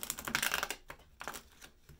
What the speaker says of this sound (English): See if we can get one more good shuffle